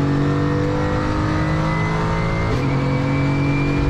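A Mercedes 190 DTM race car engine drones loud and close at high revs, its steady harmonic roar dropping in pitch partway through as if shifting, with no other sounds over it.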